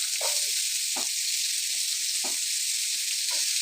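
Chopped onions sizzling in hot oil in a pan for a Telugu beerakaya milk curry, a steady broadband hiss broken by a few soft stirring scrapes, close and continuous with no talk.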